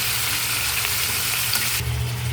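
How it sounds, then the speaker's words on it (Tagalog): Chicken pieces sautéing in a hot pan, a continuous close sizzle and crackle with a brief stirring shift near the end, no voices. "Igigisa natin mabuti ang ating chicken."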